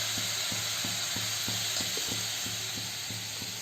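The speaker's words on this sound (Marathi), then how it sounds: "Mummy gas कुदतोय. हा तो आवाज येतो त्याचा." A gas stove burner sputters in regular repeated pops, roughly two per second, over a steady loud hiss while vegetarian cooking goes on, with no voices.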